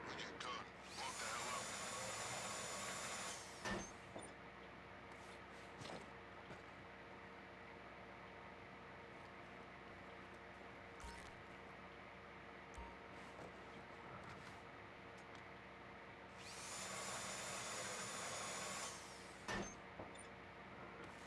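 Whirring power drill from GTA V boring out locker sets during a farm raid, two sustained drilling bursts at start and end over a steady low mechanical hum, with scattered clicks and thumps between.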